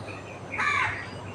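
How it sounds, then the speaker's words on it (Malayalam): A single crow caws once, fairly close and clear, over a steady outdoor hum on a morning in a Kasaragod home. "കാക്ക നല്ല സൗണ്ട് ഉണ്ടാക്കുന്നുണ്ട്"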